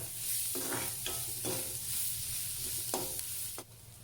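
Onions frying in a pan for a cluster bean and fresh coconut curry, a steady close sizzle running throughout with several sharp bursts of scraping and stirring, no voices.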